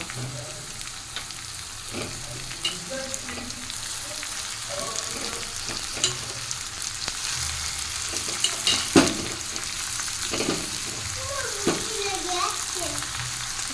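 Chicken pieces frying with a spice masala in a pan, giving a continuous dense sizzle with scattered stirring scrapes and clinks, and a faint voice murmuring in the background now and then.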